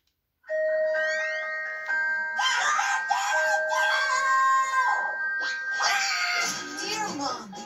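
A cartoon rooster crows at summer camp, a loud, long, strained call that rises and wavers under cartoonish voices and squawky effects.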